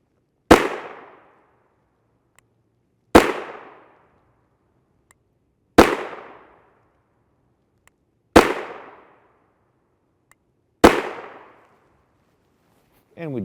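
Five sharp gunshots from 5.7x28mm Fiocchi 62-grain FMJ subsonic ammunition, fired one at a time about two and a half seconds apart, each loud crack decaying quickly with no talk between shots.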